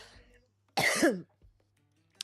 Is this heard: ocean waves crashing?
no